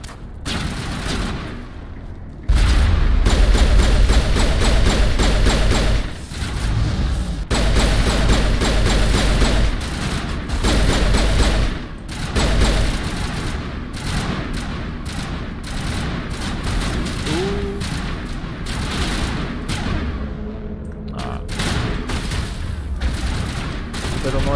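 Rapid gunfire from the Mass Effect: Legendary Edition video game, dense bursts of loud automatic shots and thumping impacts running nearly without pause, with game music and effects layered under them.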